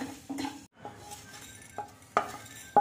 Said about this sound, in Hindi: इन सारे खड़े मसालों को हम सूखे कढ़ाई में हल्के हीट पर गर्म कर लेंगे